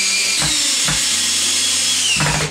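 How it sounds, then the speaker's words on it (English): Power drill driving screws into a DIY cat scratching post: a loud, close, continuous high motor whine with a few brief changes in load, running for about two seconds before winding down. "I'm gonna go ahead and put another screw or two in here."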